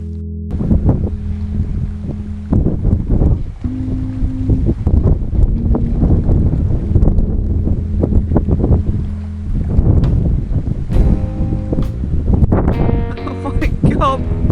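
Strong wind blowing outdoors at a lake on a carp fishing trip in France, loud buffeting gusts roaring across the microphone in uneven bursts, with rumbling thumps and occasional voices mixed in.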